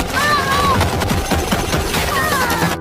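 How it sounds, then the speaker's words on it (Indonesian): Relentless gunfire crackles across a chaotic film battlefield, with dense overlapping shots and loud blasts filling the whole stretch while whistling tones and voices rise through the din. "keadaannya sangatlah kacau karena tembakan tidak ada henti-hentinya dari pihak lawan"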